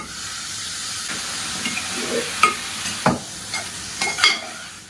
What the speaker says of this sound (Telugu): కడిగి పెట్టుకున్న మష్రూమ్స్ యాడ్ చేసుకోవాలి.